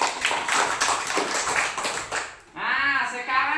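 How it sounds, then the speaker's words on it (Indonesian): Children in a primary-school lesson clap their hands in applause, a busy, continuous patter mixed with young voices and chatter close by. "Tepuk tangan."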